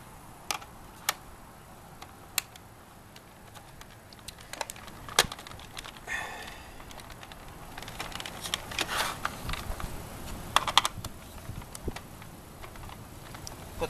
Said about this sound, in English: Now tighten up, put the screws back in